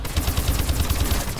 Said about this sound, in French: même le bruit de l'arme quand on tire, je le trouve classe